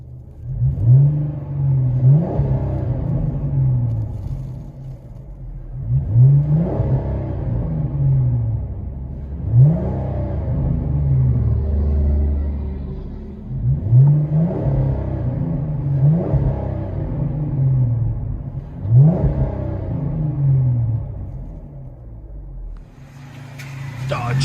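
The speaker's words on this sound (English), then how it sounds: "I'll let you guys hear on the inside." Dodge Challenger V6 with an aftermarket exhaust, heard from inside the cabin as a muffled, booming idle broken by about six evenly spaced revs that climb and fall back, with occasional voices in the car.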